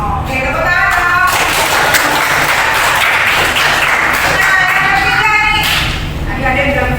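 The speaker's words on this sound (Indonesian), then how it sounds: "Oke, tepuk tangan." A classroom of students claps together in a dense, steady round of applause, loud and close, with voices mixed in beneath the clapping.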